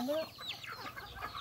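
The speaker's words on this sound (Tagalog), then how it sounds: "Ay, manok. Kumain ka lang manok." A chicken clucks a few times close by, short bird calls over quiet outdoor background.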